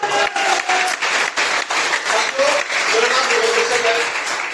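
Audience applause at a talk, a loud burst of many people clapping with voices and cheering mixed in and brief tonal calls rising above the clapping.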